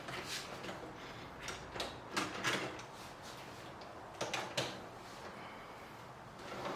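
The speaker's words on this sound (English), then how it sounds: "Attach the cutlery drawer by lining up the side supports with the rails. Give it a test to make sure it slides in and out smoothly." Bosch dishwasher cutlery drawer sliding in and out on its rails, giving a series of soft scraping glides and light clicks at close range, with a few sharper knocks as it stops.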